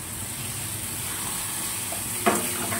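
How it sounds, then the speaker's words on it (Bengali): Fried pointed gourd goes into bubbling masala cooked down in oil for doi potol, giving a steady close sizzle and hiss with one brief clatter near the end. "এইবার দিয়ে দেবো ভেজে রাখা পটলগুলো"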